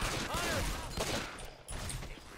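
Rapid video-game gunfire aimed at a charger in Left 4 Dead, a dense, continuous burst of shots with a brief lull midway, heard alone.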